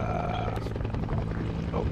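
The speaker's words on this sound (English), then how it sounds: "He landed the fucking medevac helicopter." A medevac helicopter lands in a jungle combat video game, a low, dense rotor and engine rumble that fills the brief stretch steadily at close range, with a faint voice underneath.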